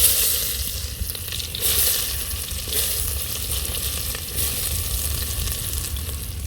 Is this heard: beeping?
no